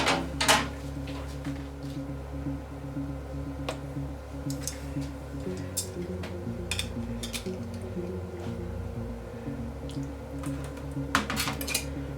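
Small pots of chocolate cream, just out of a sous-vide water bath, clink and knock against each other and a hard surface in a kitchen, with scattered sharp taps over a low background hum.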